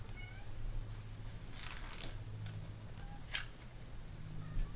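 A few short, high meows come at intervals over a quiet, faint background, with soft clicking in between.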